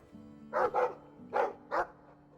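A dog in the video game Dragon Age II gives four short barks in two quick pairs, close and clear over a faint low game hum, with no talking.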